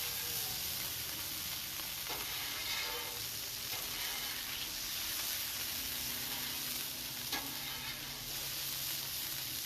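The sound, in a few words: smashburgers sizzling in their own grease on griddle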